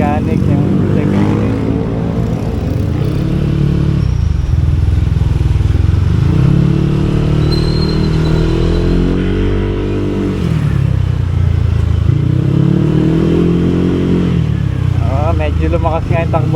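Yamaha Aerox scooter fitted with a 185cc engine, heard from the rider's position as its buzzing drone rises and falls through several accelerations, loud and close with wind rumble throughout.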